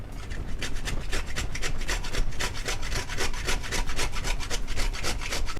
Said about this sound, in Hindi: मिक्सचर को अच्छे से मिक्स कर लेते हैं